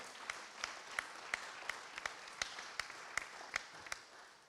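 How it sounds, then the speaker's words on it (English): Faint, sparse clapping at a policing conference, a few distinct claps falling in a loose, regular rhythm, distant and quiet with no talk over them. "Yeah, you can applaud, go ahead, applaud, don't be shy."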